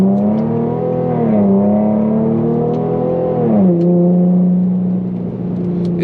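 An Infiniti G37 engine revs hard and loud, pitch climbing through gear changes with brief dips between shifts, close and continuous.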